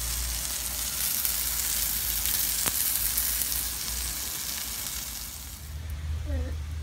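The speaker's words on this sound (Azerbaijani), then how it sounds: "Bu şəkildə qutabları sacın üzərində bişirirəm." Meat-filled qutab cooks on a hot saj griddle, producing a steady close sizzle with one sharp tick midway, easing slightly toward the end.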